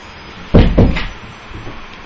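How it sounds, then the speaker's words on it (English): A room door being closed, two close, solid thumps in quick succession with a short rattle, followed by a faint tail of room noise. "I'm gonna go ahead and close the door to this room."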